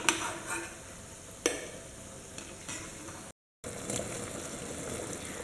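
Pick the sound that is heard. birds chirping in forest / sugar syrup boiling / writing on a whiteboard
sugar syrup boiling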